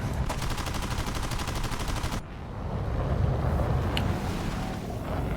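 Aircraft guns fire in War Thunder as a loud rapid machine-gun burst for about two seconds, then stop abruptly, leaving a steady engine drone with one faint later shot.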